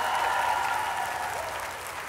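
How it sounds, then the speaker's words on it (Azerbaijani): A studio audience at the 2021-2022 Voice of Azerbaijan final applauds the contestants, a full, sustained wash of clapping with a faint tone beneath it, easing slightly toward the end. "Gəlin alqışlayaq ölkənin ən güclü səslərini."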